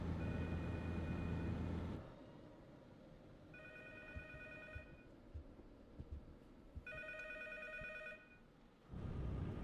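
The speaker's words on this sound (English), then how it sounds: "I thought I heard a phone ring" In the horror game P.T., a telephone rings in two distinct, faint bursts separated by a pause, over a low droning ambience.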